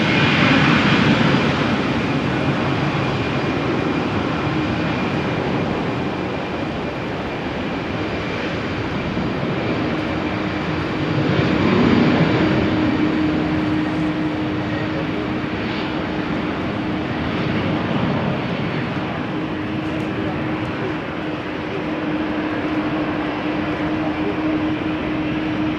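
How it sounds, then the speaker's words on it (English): A Vueling Airbus A319 airliner at rainy Amsterdam Schiphol Airport, its jet engines roaring loud and steady for the whole stretch with a sustained whine and a brief swell midway, no voices. "Vueling lined up ready to go to Florence. A319 flight 6815."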